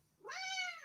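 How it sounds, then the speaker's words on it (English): A cat gives a single clear, rising then falling meow close by, with quiet room background before it. "A wild cat appeared"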